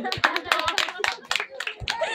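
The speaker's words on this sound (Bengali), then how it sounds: "একটা হাততালি দেন মার জন্য।" An audience claps together at a religious discourse gathering in Kolagaon, Patiya: a run of sharp, fairly rapid hand claps that carries on steadily, with voices mixed in.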